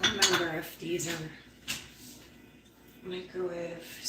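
Pyrex glass cups and dishes being handled in a home kitchen give several light clinks and knocks scattered over a few seconds, under a person talking.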